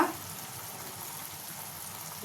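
Food fries in oil and ghee with a steady, faint hiss that runs evenly throughout, with short louder touches at the very start and end and no voices.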